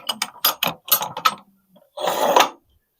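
A HUD-SON sawmill cuts wooden stakes in a quick series of sharp, rattling mechanical bursts, followed after a short gap by one longer, louder grinding cut, all close and with no voices.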